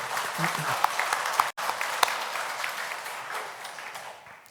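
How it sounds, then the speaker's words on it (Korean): A church congregation applauds its prayer-house choir after a Sunday worship hymn, a dense, steady round of clapping that cuts out briefly, resumes, and gradually tapers off. "수고한다고 격려의 큰 박수를 좀 보내주시기 바랍니다"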